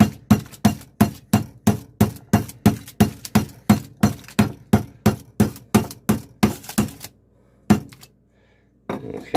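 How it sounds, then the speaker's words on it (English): Turkey loin being pounded flat with a mallet, about twenty sharp rhythmic thuds in quick succession, followed by a pause and two more separate blows, close and loud. "bang it some, get it down, probably about quarter, half an inch, and make some room for our stuffing."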